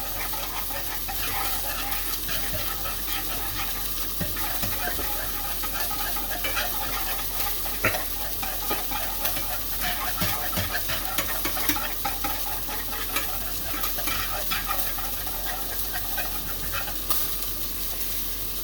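Steady sizzling and bubbling from tomato sauce boiling in a pan on the stove, with occasional stirring clinks, continuous and fairly close.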